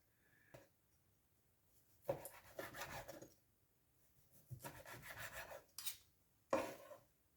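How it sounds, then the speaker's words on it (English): A knife saws through a cooked medium-rare steak in a few separate strokes, each a quiet rasping scrape against the meat and board, with near silence between them. "now it is time to cut into this guy and see what we are dealing with"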